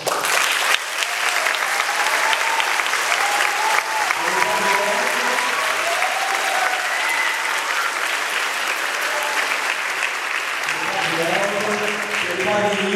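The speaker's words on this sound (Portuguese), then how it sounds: "nós gostaríamos de pedir uma salva de palmas para o Padre" Audience applause for a priest at a parish tribute event, a sustained dense clapping from a crowd lasting the whole stretch, with voices murmuring and talking underneath.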